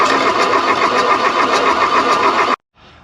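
A wrecked car's diesel engine turns over on its starter, a loud, steady cranking drone that runs continuously for about two and a half seconds and then cuts off abruptly into quiet.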